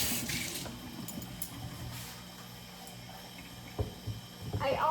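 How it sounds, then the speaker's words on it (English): Water runs from a kitchen sink tap as a matcha cup is rinsed, a steady faint splashing stream with a few knocks and clinks near the end. "rinse this out real quick."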